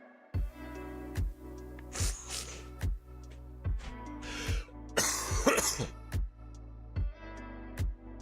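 A person coughing repeatedly in short, sharp bursts at irregular intervals, close to the microphone, with some throat clearing between coughs in a quiet room.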